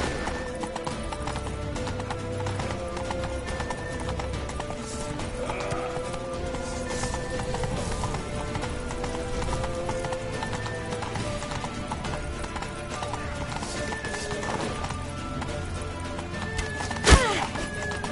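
Horse hooves clip-clop at a steady gallop, with whinnies and neighs, during a ride in The Witcher video game, all under a dense game soundtrack and effects, ending in a sharp thud near the close.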